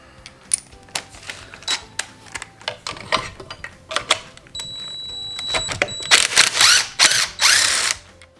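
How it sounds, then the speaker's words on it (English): An 11mm socket on a ratchet works a threaded nut on a 6.0 Powerstroke VGT turbo, giving a series of close, sharp mechanical clicks and ratcheting bursts that grow denser and louder toward the end. "Then we're gonna take an 11mm right on the end of that nut."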